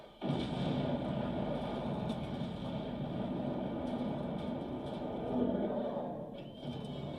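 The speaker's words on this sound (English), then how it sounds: "there's a hand grenade blast that results in a massive explosion." A hand grenade blast sets off a massive explosion in the film Aliens, a loud, dense roar that bursts in abruptly and rumbles heavily through the low end for several seconds without fading.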